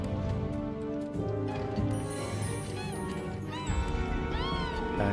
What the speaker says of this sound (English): Oh yeah, I'm picking up the cat too.